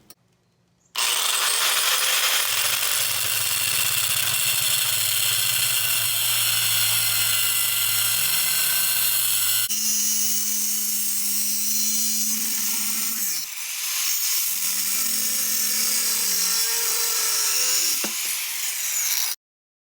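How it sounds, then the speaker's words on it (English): Angle grinder cutting excess steel off a custom rear utility rack for an off-road mower: a loud, continuous high whine that shifts pitch as the disc bites and eases, dropping out briefly near the end. "So I'm gonna get the grinder, I'm gonna cut the extra steel off that I don't need."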